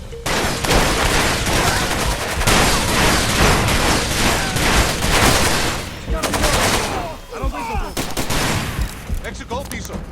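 Dense automatic gunfire rattles in bursts in Far Cry 2, loud and close, with a short lull before more shots and scattered booms, and players' voices talking over the shooting.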